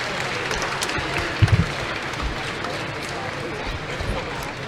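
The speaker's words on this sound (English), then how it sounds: "Very loud cheering to the right of us" Audience at a Rubik's Cube speedcubing final at Euros 2018 claps and cheers loudly and steadily, with a couple of low thumps partway through and a commentator talking over the crowd.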